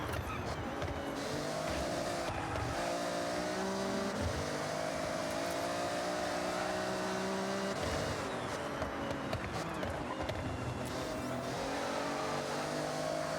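Banvine car engine racing in a video game, a steady loud revving drone with shifting pitch held throughout, briefly dipping around gear changes, with no talk over it.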